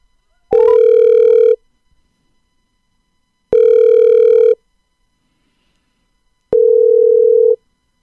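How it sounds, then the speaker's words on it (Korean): A telephone ringback tone plays while a call connects during a local FM radio show: three loud, steady electronic rings of about a second each, evenly spaced by two-second silences, with no talking. "마을꿈샘 이현주 선생님과 전화로 연결해서 자세한 이야기를 들어보려고 하는데요."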